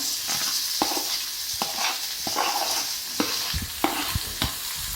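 Two onions and green chillies sautéing in a pan, a steady sizzle broken by repeated spatula knocks and scrapes against the pan, close and fairly loud, no voices.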